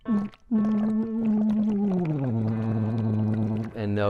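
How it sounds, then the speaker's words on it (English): A singer hums sustained voiced tones through a straw into water during a voice strengthening exercise, the water bubbling steadily beneath the pitched hum, which slides lower partway through; close and fairly loud. "And notice my water's always bubbling."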